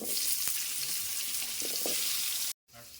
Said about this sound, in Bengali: বন্ধুরা এবার আলুগুলো ভেজে নেব